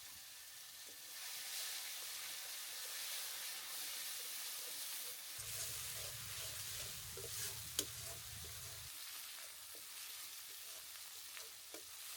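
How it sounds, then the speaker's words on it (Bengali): Ground spice paste frying in hot oil left over from frying fish, a steady soft sizzle and hiss lasting throughout, with faint stirring scrapes and no talk. "এখন মাছ ভাজার তেলের মধ্যেই বাটা মশলাগুলো দিয়ে দিবো"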